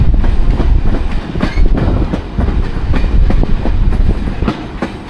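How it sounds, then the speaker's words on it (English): A steam locomotive pulls a long train past on the Iron Horse Ramble between Penobscot and Nesquehoning, heard as close, loud rhythmic clattering of wheels over rail joints with a steady rumble beneath. "suddenly a steam locomotive comes through with a huge train like this"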